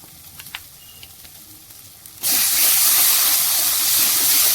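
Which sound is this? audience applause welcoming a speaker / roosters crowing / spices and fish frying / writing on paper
spices and fish frying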